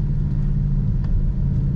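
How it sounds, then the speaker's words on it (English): A 2019 Ford Mustang Bullitt with its stock exhaust gives a steady low burble and rumble from inside the moving car, with no talk over it. "The stock exhaust note on this car has a nice little burble to it."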